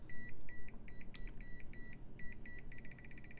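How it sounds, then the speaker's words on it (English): A non-contact voltage detector held near a laptop gives rapid, loud electronic beeps in short bursts, which speed into a quick steady chirping toward the end, over a low background hum. "if I bring it close to the laptop, it starts to beep and tell me there's voltage present"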